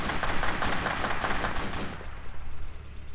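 Gunfire in the video game ARMA 2: a rapid burst of automatic fire with evenly spaced sharp reports for about two seconds, then a lower rumbling tail with scattered distant shots.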